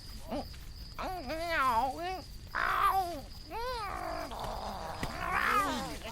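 A cat yowls and caterwauls in a radio drama, a run of long wavering howls rising and falling over about six seconds, loud and close, with short gaps between cries.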